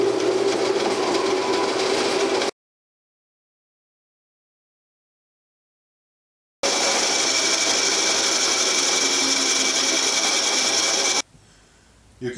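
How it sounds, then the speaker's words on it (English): A bandsaw cuts a traced shape out of a wooden block for an antique oak table repair, running as a steady, loud whine in two long stretches separated by a few seconds of silence. "take it over to the bandsaw, and cut it out"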